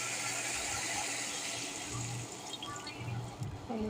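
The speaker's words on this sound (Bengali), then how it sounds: "পানি দিয়ে দিলাম এখন অনেক বেশি করে," Water pouring into a cooking pot for a simple fish dish, a loud continuous gushing stream that tapers into lighter trickles near the end, close by and without talk.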